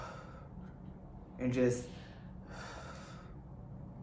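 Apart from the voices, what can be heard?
breathing technique, deep breaths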